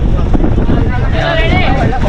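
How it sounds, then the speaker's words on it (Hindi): Strong, cold wind sweeps across a hill station in Matheran during monsoon fog, a loud continuous roar buffeting the microphone with faint voices underneath. "हवा काफ़ी तेज़ और काफ़ी ठंडी हवा चल रही है"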